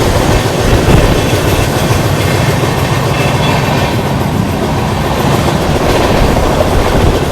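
The Darshan Express runs on rails with a loud, continuous rumble and steady clickety-clack of wheels over joints, heard close and up front with no talking.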